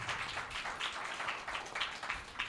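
Worshippers at a church service applaud cheerfully, and the overlapping hand claps make a continuous, even crackle from a crowd at moderate volume.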